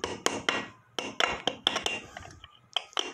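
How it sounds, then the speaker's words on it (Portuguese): Sharp metallic hammer blows on a homemade motorcycle exhaust flange bracket ring out in irregular clusters, close and loud, about a dozen strikes with brief ringing decays and no talking. "Vou dar umas marteladas aqui"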